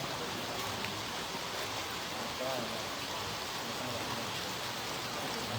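Steady rain falls outdoors at a Lanna Buddhist temple ceremony in Chiang Mai, a constant hissing wash of drops on surfaces with no break, heard alone and fairly close.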